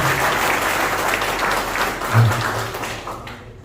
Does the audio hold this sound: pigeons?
no